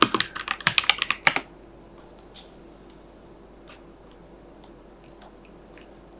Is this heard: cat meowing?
no